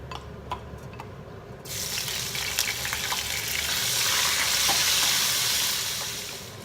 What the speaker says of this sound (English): Then I'm gonna fry the shrimp.